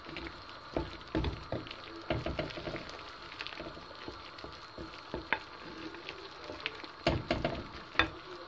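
Eggs with cumin, red pepper and parsley sizzle steadily in a pan while being stirred, with the frying hiss broken by repeated sharp scrapes and clacks of the utensil against the pan.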